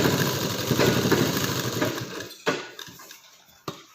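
A sewing machine stitches with its presser foot down, running in a fast close whirr for about two seconds before stopping, followed by a few sharp mechanical clicks.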